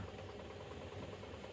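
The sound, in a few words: loaded lorry engine straining on a muddy hill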